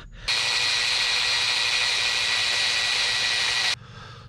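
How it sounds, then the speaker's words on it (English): A power drill bores a hole in a part for a 1/14-scale lowboy semi-truck trailer model, running as one loud, steady, high whine for about three and a half seconds before cutting off sharply. "Once I got that one drilled"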